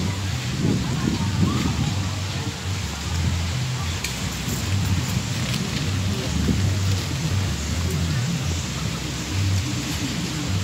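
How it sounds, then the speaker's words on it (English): Light rain drizzles at a beach resort in Lagos, a steady hiss of drops with a low rumble beneath, continuous throughout with no break. "It's already drizzling."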